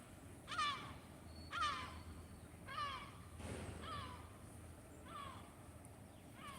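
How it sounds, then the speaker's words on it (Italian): Seagulls and pigeons squabbling over food in a southern Italian town, with a string of harsh gull cries repeating about once a second over distant low background noise, faint overall. "Stamattina ci sta la guerra gabbiani-piccioni."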